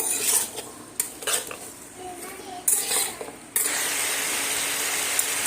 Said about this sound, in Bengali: এবার শশাটা সুন্দরভাবে সময় নিয়ে একটু কষিয়ে নেব